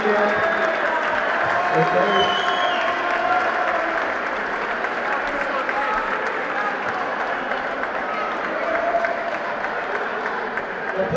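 Steady applause from a crowd at a sports award ceremony, dense and continuous throughout, with voices talking over the clapping.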